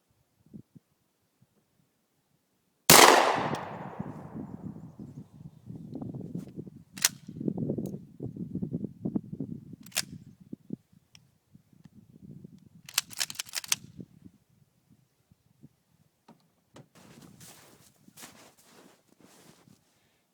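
A Dominion Arms Grizzly shotgun fires a single sharp, loud report of number 4 shot at ten yards outdoors, followed by a fading echo and scattered faint clicks and handling noises.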